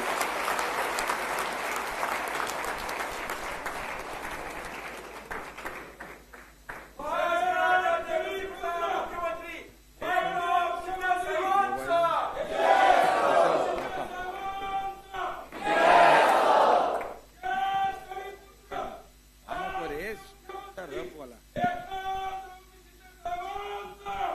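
An audience applauds and cheers at a political event after a call for claps for an acceptance speech by a politician; loud sustained clapping and shouts swell in waves, with some voices calling out through it.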